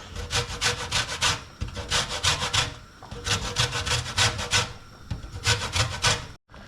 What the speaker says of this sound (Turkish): Aşıremiz kaynarken rendemizin ufak gözünde limon kabuklarımızı rendeliyoruz arkadaşlar.